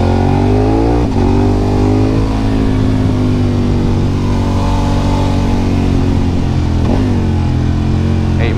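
A racing motorcycle on a Lamego road course roars loud and close under hard acceleration, its engine pitch climbing and dropping through gear shifts in a continuous, strained howl.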